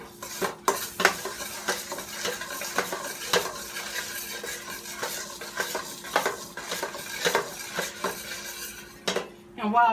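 Butter melting in a pan while a utensil stirs and scrapes, giving repeated clinks and scrapes of metal on the pan over a faint sizzle, close up with no talking.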